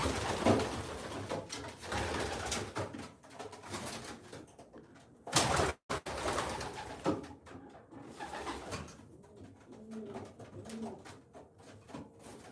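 Pigeons coo softly inside a loft, low repeated burbling calls scattered through the scene, with a sharp knock and rustle midway and quieter cooing continuing afterward.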